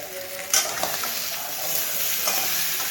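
Potatoes for niramish aloor dum are stirred while frying in a pan with ground cumin, giving a soft steady sizzle with a couple of sharp scraping clinks from the spoon, close by.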